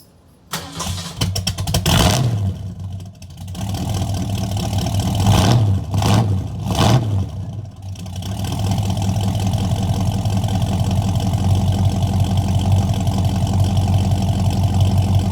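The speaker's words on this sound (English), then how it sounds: "hopefully you can hear the exhaust." Car engine starting with a loud exhaust bark, followed by several sharp revs and then a steady, rumbling idle close by that holds for the rest of the stretch.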